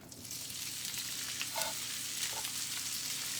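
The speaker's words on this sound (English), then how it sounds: "So I'm going to throw the steak in." Steak sizzling hard in a hot pan for country-style fajitas, a steady loud hiss of frying fat with a few brief pops and spits, no voices.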